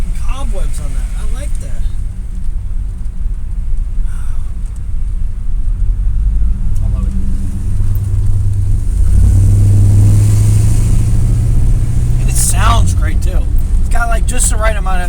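A 1987 GMC Sierra Classic Suburban big truck with its exhaust system emits a deep, steady engine growl close by, with a rising rev midway, while a voice talks over it.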